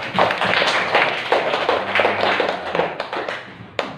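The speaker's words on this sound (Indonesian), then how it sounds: "Tepuk tangan untuk Imdadur Rahman." Steady applause from a group, hands clapping in a dense, continuous patter that rises and thins slightly over a few seconds.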